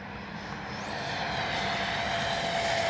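An FMS Avanti S 70mm RC jet makes a fast low pass down the runway, its ducted-fan whine swelling steadily louder and closer over a broad rushing roar.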